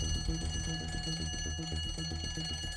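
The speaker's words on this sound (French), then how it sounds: "L'alarme de décrochage se déclenche à nouveau, de façon continue" Continuous stall warning alarm in the Airbus cockpit of Air France flight AF447, a rapid repeating electronic chime ringing steadily at low level without pause.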